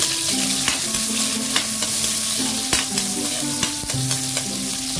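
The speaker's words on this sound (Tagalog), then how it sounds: "Lagyan na natin ating sibuyas." Onions sizzle steadily in a frying pan for spicy sautéed anchovies, with a spatula stirring and scraping against the pan in repeated clicks throughout, close and fairly loud.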